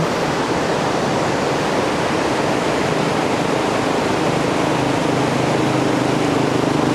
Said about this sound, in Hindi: ये नदी कितनी खूबसूरत लग रही है